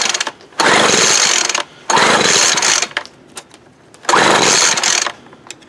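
A Poulan Pro BVM200 gas leaf blower engine fires up in three loud roaring bursts, each about a second long, with near-silent gaps between them as it sputters and dies.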